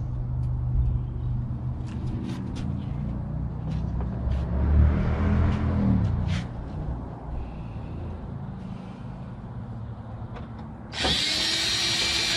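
A power drill works the screws out of a burned-up computer's power supply, whirring in short bursts with a rising pitch, closely miked, and a sharp high-pitched run at the end.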